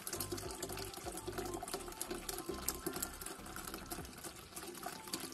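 Milk pours steadily into a pastry cream mixture, a soft continuous trickling liquid sound heard close up and alone at a fairly low level.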